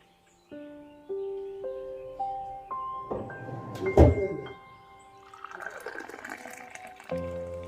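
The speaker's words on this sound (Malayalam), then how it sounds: "അപ്പോൾ ഞാൻ അതിലേക്ക് വെള്ളം നിറച്ചിട്ട് ഇങ്ങനെ വെക്കുകയാണ്" Water runs into an airtight jar with a broken lid, and the pitch climbs in stages as it fills, then gives way to a louder gushing splash and a softer trickle at the end.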